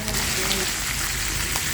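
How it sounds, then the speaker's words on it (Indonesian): Marinated chicken frying in hot oil in a pan, giving a steady close sizzling hiss that runs without a break for the whole short stretch. "Kita goreng ayamnya."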